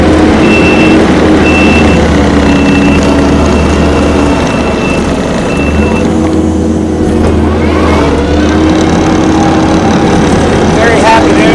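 A 2018 Kubota SVL75-2 rubber-track skid steer loader with cab, heat and air runs steadily nearby, its low engine drone continuous throughout, with a faint repeating high tone and some mechanical clatter near the end.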